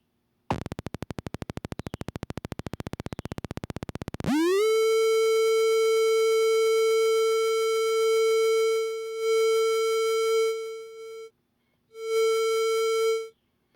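No-input mixing board feedback, aux send set pre-fader: a rapid buzzing pulse train for about four seconds, then a loud, steady harmonic-rich tone that sweeps up into place, holds, dips briefly, cuts out and returns.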